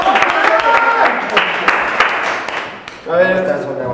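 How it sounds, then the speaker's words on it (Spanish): A studio audience claps for a guest on a talk show, a scattered burst of applause mixed under a voice that keeps talking over it. "¡Un aplauso para Frank, por favor!"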